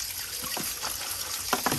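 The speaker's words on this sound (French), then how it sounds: "Donc on les re-rince une dernière fois" Dried tomatoes rinsed under running water, a steady splashing trickle with a few brighter spurts of water toward the end, close by and moderately loud.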